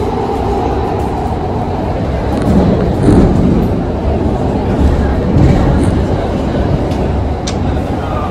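Continuous low rumbling and rattling from inside a moving metro train carriage in Qatar, with occasional faint clicks and swells in the engine noise.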